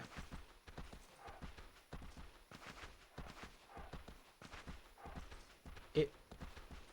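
Horse hooves clip-clop at a steady walking rhythm in the video game Shadow of the Colossus. The repeated soft thuds run throughout at moderate level, with one louder knock near the end.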